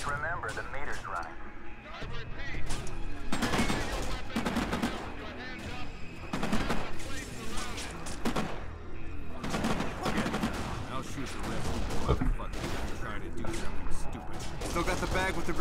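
Gunfire from the video game Kane & Lynch: Dead Men: sustained bursts of automatic weapons fire and shots, loud and continuous, with people talking over it.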